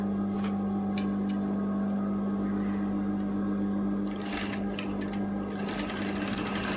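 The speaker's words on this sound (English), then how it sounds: "I'm just stitching around the armhole." A sewing machine stitches around the armhole of a lined dress, running in a steady, continuous whir with a few faint ticks and clicks and no voices.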